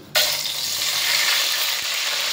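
Bay leaves and cinnamon dropped into hot oil for a duck curry: a sudden loud burst of sizzling that settles into a steady, close frying hiss, with one faint tap and no voices.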